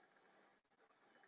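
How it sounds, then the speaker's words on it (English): Crickets chirping at night, two faint, steady trills separated by a short gap, heard alone with no talking. "I love the crickets."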